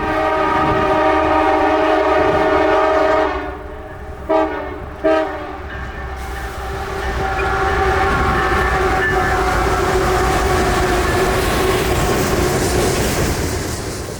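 A southbound CSX freight train's horn sounds in long harmonic blasts as it rumbles past nearby at a road crossing, with steady rolling noise and clattering wheels continuing after the horn stops.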